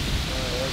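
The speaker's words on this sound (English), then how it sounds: "it's full on downpouring now" Heavy rain pours down in a full downpour over a backyard beside a covered porch, a steady dense hiss with no letup, close and loud.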